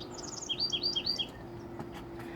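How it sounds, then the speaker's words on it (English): Several birds chirp in a small backyard vegetable garden, a quick run of bright tweets clustered in the first half, then sparser calls over a steady low hum. "That beautiful bird."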